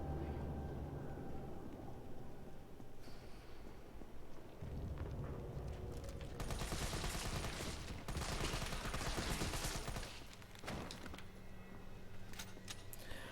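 Sustained assault rifle gunfire in the video game Resident Evil 3: dense, loud bursts of rapid shots that grow heavier midway, with no speech.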